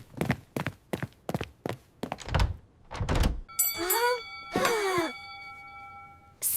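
A series of sharp knocks on a door, about eight quick raps close by, followed by a ringing doorbell-like chime, in a cartoon home scene.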